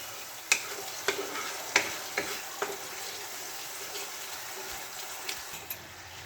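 Pepper fish curry gravy simmering in a pan in a Bengali home kitchen as water goes in, giving a steady sizzle and bubbling with a few sharp clinks and taps of a utensil along the way.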